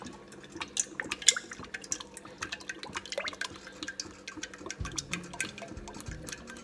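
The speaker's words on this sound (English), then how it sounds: "I'm going to use the vegetable oil today" Vegetable oil pours into a pan in a home kitchen for vegan egg rolls, a thin stream of soft dripping and splashing ticks over a quiet room, with no talk.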